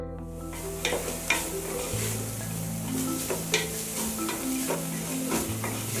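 Vegetables sizzle steadily in a hot pan while a utensil scrapes and stirs them, with occasional clinks and a low hum underneath.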